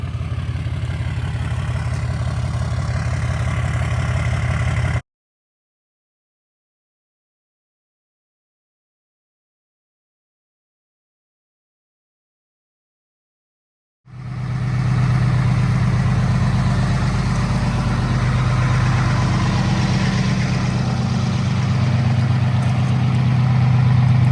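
A dually conversion truck's engine idles steadily with a low, continuous rumble, broken by a long stretch of silence before the same idle resumes.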